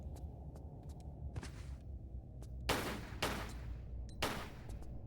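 Three sharp gunshots in Tomb Raider 4, at spaced intervals over a steady low background hum, each a loud, bright crack with a short tail.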